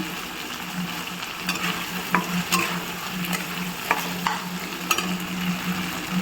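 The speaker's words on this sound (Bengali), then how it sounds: "এবার একটা একটা করে মাংসগুলো দিয়ে নাড়িয়ে নিয়েছি" Chicken pieces for chili chicken being stirred and fried in a pan, a constant sizzle with irregular clattering scrapes of a spoon against the pan, close and with no talking.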